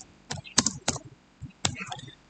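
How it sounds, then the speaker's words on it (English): Someone types on a computer keyboard in a quiet room, a short burst of a few close, crisp key clicks in an uneven rhythm, with no talking. "I'm typing my name."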